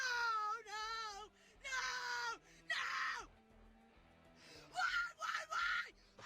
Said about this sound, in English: Violently screaming in her car.